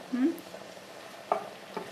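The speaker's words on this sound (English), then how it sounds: "What do you do with that when it starts sizzling like that?" Quiet sizzling of food frying in a pan, with a few soft scraping stirs and a brief faint voice.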